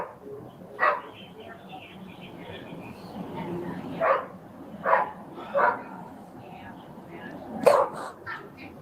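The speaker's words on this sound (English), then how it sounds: "We hear obnoxious dogs on a rope making noises." Dogs kept on a rope bark and yip indoors in a house, several sharp separate bursts spread over a low murmur of background noise.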